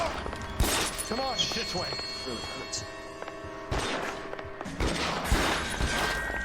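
L.A. Noire gunfire: several sharp shots scattered through the scene, some loud and close, others fainter, with a voice speaking between them over steady background game sound.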